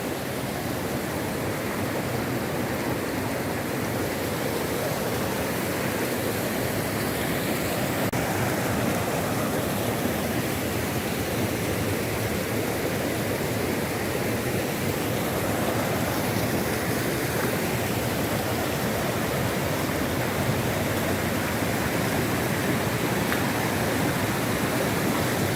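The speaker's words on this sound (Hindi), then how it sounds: "ये मेरे पीछे चश्मा आ रहा है, ये देखिए आप, ये पानी आ रहा है" Kohala waterfall near Muzaffarabad, Kashmir, pours down with a loud, continuous broadband roar of rushing water, steady and unbroken from start to finish with no voices.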